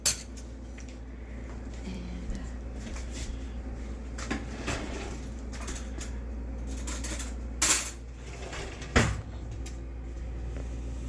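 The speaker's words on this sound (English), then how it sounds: "I'm going to get me a spoon." Spoon clinking against dishes in a kitchen while waffles are made: a few sharp metallic clinks stand out, one around the middle and another near the end, over a steady low hum of background noise.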